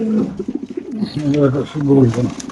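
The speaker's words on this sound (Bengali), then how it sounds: "এটা পাকিস্তানি গোল্ডেন কবুতর" A Pakistani golden pigeon at a market coos in close, throaty rolling phrases, loud and repeated.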